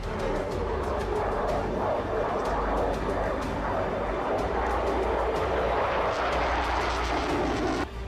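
A Russian fighter jet engine roars loud and steady for the whole stretch, a dense continuous jet rumble with some faint higher background noise mixed in.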